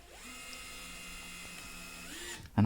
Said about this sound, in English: screw the screw in